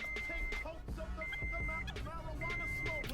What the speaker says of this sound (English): That's just your normal startup beep.